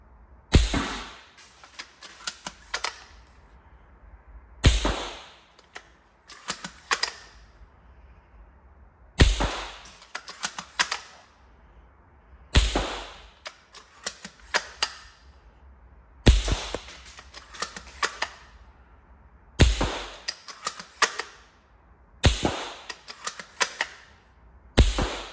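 Repeated sharp cracks of airsoft BBs from a TM VSR One spring rifle striking wood, about a dozen crisp impacts in uneven pairs and clusters, each with a short rattling tail over faint background hiss.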